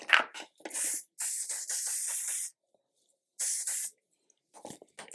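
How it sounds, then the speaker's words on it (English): L'Oreal hair spray hisses from a can in several bursts, soft and close, with short gaps of near silence between the longer sprays. "And then spray with some of my L'Oreal spray."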